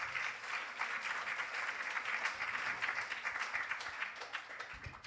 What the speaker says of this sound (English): Big round of applause for our first speaker.